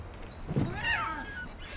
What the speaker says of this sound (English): There's the cat.